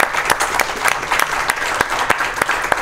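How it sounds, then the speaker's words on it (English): Audience applause at a study group meetup, a crowd clapping steadily and close with sharp individual claps popping out of a dense, lively patter. "So round of applause for Google."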